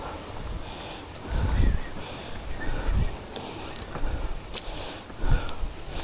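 Wind buffets the microphone in low, rumbling gusts on Mt. Manghilao in Danao, swelling and fading over a steady rush of air, with no clear talking.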